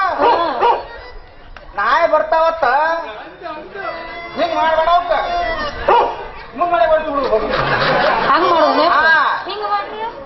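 Dogs bark and yip repeatedly amid continuous, loud chatter from several people nearby at a village temple fair play performance.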